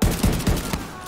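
Rapid automatic gunfire from The Division 2 sounds as about four close, punchy shots in quick rhythm, with a faint voice underneath.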